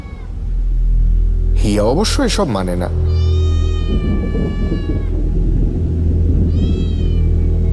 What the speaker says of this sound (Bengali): সিঁড়ির তলা থেকে বারবার একটা বিড়ালের কান্না শোনা যাচ্ছে।